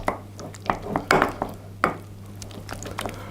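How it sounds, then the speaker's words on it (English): Very soft butter being stirred round in a bowl for cinnamon sugar snickerdoodle cookies: a string of close, irregular clinks and scrapes of utensil against the bowl over a low steady hum. "I'm going to put the butter into a bowl. It's very soft. And I'm just going to mix that round a little bit."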